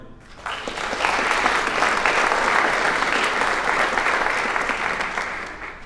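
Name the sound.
applause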